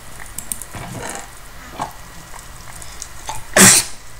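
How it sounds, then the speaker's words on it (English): A single sharp sneeze bursts out near the end, loud and close, after a few seconds of quiet breathy sounds and faint clicks. "I'm gonna sneeze."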